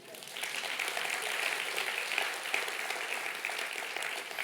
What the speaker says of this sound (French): Oui, vous pouvez acclamer la parole de Dieu.